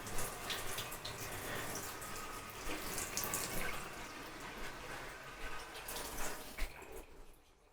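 Hot water runs from a tap into a sink at a basic campsite wash-up facility, a steady hissing splash with faint drips and knocks, heard alone at moderate distance.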